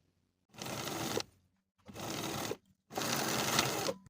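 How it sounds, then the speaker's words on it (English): A sewing machine runs in three steady bursts of stitching, each about a second long, with brief quiet pauses between, as the opening in a lined woman's coat is edge stitched closed. The machine sounds close and fairly loud. "You can slip stitch or edge stitch that opening closed with your machine."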